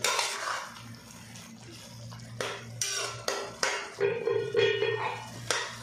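A spoon stirs and scrapes white karahi in a metal pot, with several clanking strokes in an irregular rhythm that grow busier toward the end, heard close up over a low steady hum.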